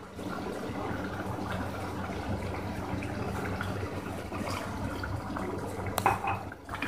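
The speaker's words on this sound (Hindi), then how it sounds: "अब इसमें एक गिलास पानी शामिल करूंगी।" Water pours steadily into a pot of achari aloo keema, a continuous splashing rush, with a brief clink of metal near the end.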